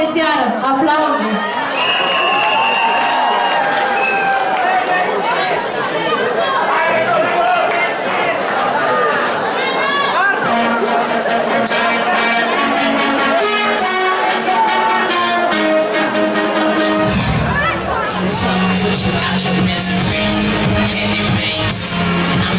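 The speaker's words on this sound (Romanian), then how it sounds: "Aplauze!" A loud crowd cheers, shouts and chatters at a high-school pageant evening round, with steady, dense noise from the whole audience. Upbeat pop music rises under the crowd toward the end.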